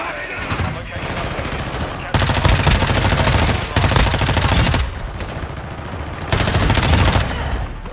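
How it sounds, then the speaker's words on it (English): Gunfire in the Modern Warfare shooter game, dense rapid automatic bursts repeating in loud sustained volleys with brief pauses between them. "let's jump right into Modern Warfare for some shooter action"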